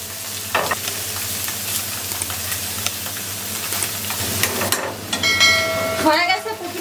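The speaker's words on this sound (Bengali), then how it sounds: "হয়ে গেছে পুঁটি মাছ ভাজা, তুলে নেব।" Puti fish frying in hot oil in a pan, a continuous close sizzle with scraping stirs and a clatter of utensil against pan near the end, while a person speaks intermittently over it.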